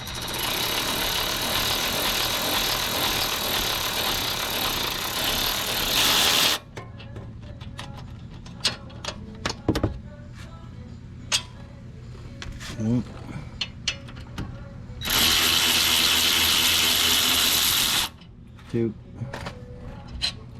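Loud bursts of power-tool whirring alternate with quieter ratcheting clicks and metallic taps as 15 mm caliper bolts are removed on a Land Rover LR3 parking brake.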